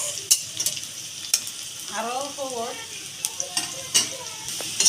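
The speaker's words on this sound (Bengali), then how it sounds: "ভালো করে অল্প তেলে ভাজা নিতেছি কাঁচামরিচ আর পেঁয়াজ" Onions and green chilies fry in a little oil with a quiet, steady sizzle, broken by clicks and scrapes of stirring in the pan; someone speaks briefly.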